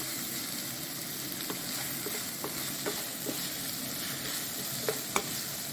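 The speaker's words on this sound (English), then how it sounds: "onions and dried red hot chili pepper is frying here" Onions and dried red hot chili peppers sizzle steadily in a pan, with a few soft clicks from stirring, close and fairly quiet throughout.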